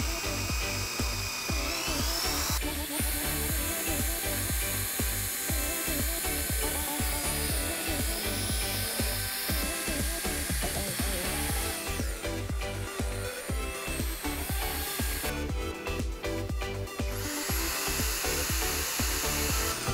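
A power drill spins steadily in a bucket, mixing metallic epoxy for a floor installation. The whir is loud and continuous, with a brief surge in pitch near the end.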